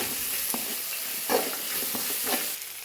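A spoon scrapes and stirs Chinese potato and pork curry in a pan in steady, uneven strokes over a constant background sizzle of frying.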